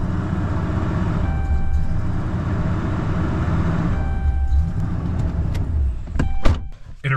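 A Dodge Ram pickup with TIPM problems and a faulty shifter cable idles roughly and is revved, its engine rumbling steadily up close, then stumbling with a few sharp clunks near the end as it dies.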